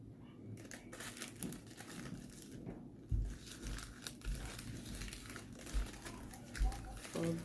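Paper being folded and creased, with soft crinkling and a few dull thumps as the fold is pressed flat, close by under a child's and adult's talk.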